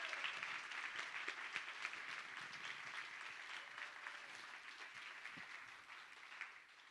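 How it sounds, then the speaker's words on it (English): An audience applauds storytellers at a live event in an art museum, a steady wash of many hands clapping from start to finish and fading slightly toward the end, with no talking over it. "let's have another round of applause for all the storytellers"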